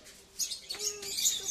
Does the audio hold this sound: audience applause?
no